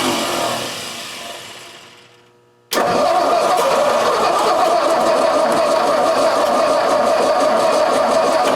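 Engine of a 1959 Ford F250 project truck with a starter staying engaged, cranking that winds down, then a sudden catch into a loud, steady close running roar.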